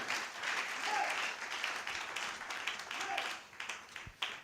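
A church congregation applauding together, a steady wash of clapping that thins toward the end with a few isolated claps and faint voices underneath.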